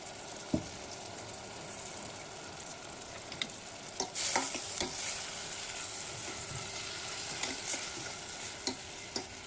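Onion paste frying in oil with turmeric, a steady close sizzle with occasional scraping stirs and light clicks from a utensil against the pan.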